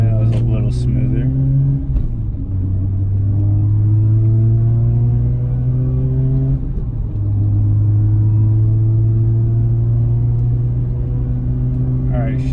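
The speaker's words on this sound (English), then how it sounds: "shifting through multiple gears seems to be a lot smoother." Car with a new Exedy HD Turbo II clutch and Racing Beat flywheel accelerating onto a highway, engine droning loudly and steadily from inside the cabin, with the pitch dropping at each gear shift twice across the run.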